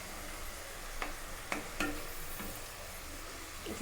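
Fish pieces frying in oil produce a steady, fairly quiet hiss close by, broken by a few sharp ticks and taps from the pan, with no talking.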